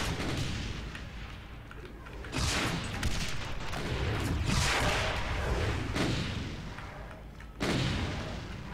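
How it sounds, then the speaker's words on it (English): Rocket launcher explosions in the video game Complex Memory, a string of loud booming blasts with rumbling tails, a heavy hit near the end. "Definitely it's rocket launcher time."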